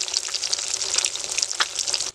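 Pabda fish frying in a pan, a steady close sizzle and crackle of hot oil running without pause, with one brief sharper spatter burst partway through.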